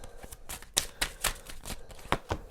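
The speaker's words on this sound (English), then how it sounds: "going to be a little bit of shuffling here" Oracle cards are shuffled by hand with soft, papery riffles and flicks in an irregular rhythm, close and quiet.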